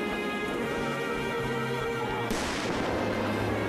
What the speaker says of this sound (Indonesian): Kayak langsung dipakai itu meriam-meriam gitu.